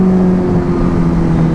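A Kawasaki Z900 superbike engine gives a loud, close, steady droning roar that holds an even pitch through a brief stretch.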